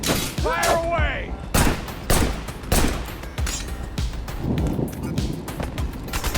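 Rapid pistol gunfire in the action game Wanted: Dead, a burst of sharp reports spread across the moment amid game effects and music, loud and close.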